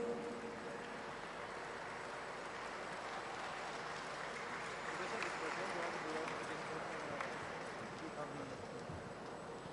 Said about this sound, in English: give applause for all keynote speakers